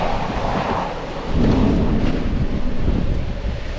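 A deep, loud rumble of thunder rolls through during a lightning storm near Paducah, Texas, heard from inside a car with rain and wind noise beneath, swelling midway and sustained to the end.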